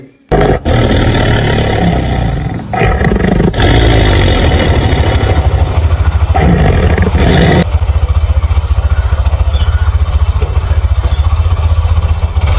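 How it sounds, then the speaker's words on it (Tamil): A Hero Splendor motorcycle engine revs loud and close, first clattering into life and then roaring with a steady, throbbing drone that surges and holds at high revs for several seconds. "அதே மாதிரி நம்மளோட ஸ்ப்ளெண்டரையும் ஆன் பண்ணி ரேஸ் பண்ணிட்டேன்"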